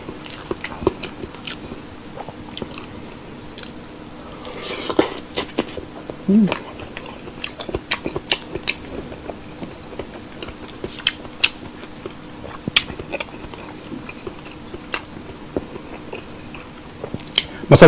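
Crisp bites and chewing on a crunchy spicy lechon pork belly roll with mozzarella cheese, sharp irregular crackles scattered through, close to the mic, with faint talk in places.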